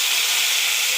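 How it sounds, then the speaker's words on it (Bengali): Paneer cubes fry in hot oil in a pan, giving a steady, loud, broad sizzling hiss that stays even throughout with no pauses and no talking. "সবগুলো পনির ভেজে নেব।"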